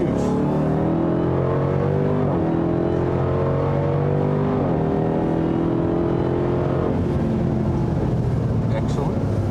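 A Dodge Durango SRT Hellcat accelerates hard on a track, its engine climbing steadily through rising gears with loud, continuous revving from inside the cabin.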